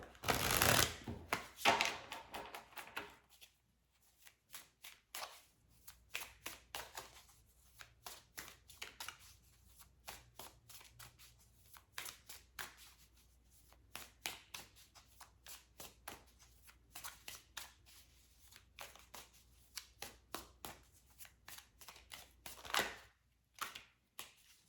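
A tarot card deck shuffled by hand: a loud riffle at the start, then a long run of quick crisp card flicks and taps in an irregular rhythm, close and clear with no talking.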